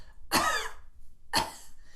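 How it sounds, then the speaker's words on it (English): Two sharp coughs a second apart, close and clear, with quiet pauses around them. "So if you take a cough right now"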